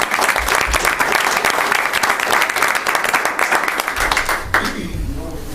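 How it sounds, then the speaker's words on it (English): Sustained applause from a meeting audience at a board of trustees meeting, dense steady clapping that runs for about four seconds and then thins out near the end. "I'm gonna clap for you right now."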